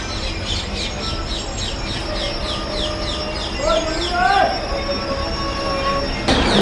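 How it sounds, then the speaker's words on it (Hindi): A passenger train pulling out of the small Nanaksar station, with steady rumbling wheels and rhythmic clatter, and a loud metallic squeal rising midway, heard from on board and up close. "यहाँ 1 मिनट के हॉल्ट के बाद हमारी ट्रेन यहाँ से डिपार्ट हो चुकी है।"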